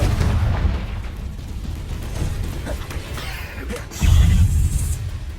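Booming blasts of the Confringo fire spell in the Hogwarts Legacy video game, rumbling explosions amid combat noise with a louder burst near the end.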